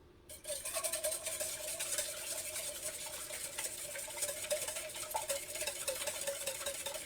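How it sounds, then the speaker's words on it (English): Eggs and oil beaten together with a whisk for sourdough hot cakes, a steady fast scraping and clicking that runs continuously and fairly close, with no talking. "the eggs and the oil we are beating together with our whisk"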